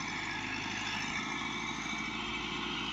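A tractor with a Stanadyne fuel pump and about 375 to 400 hours of use runs at a steady, even drone, close and constant with no talk over it.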